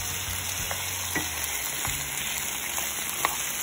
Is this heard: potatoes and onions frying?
yes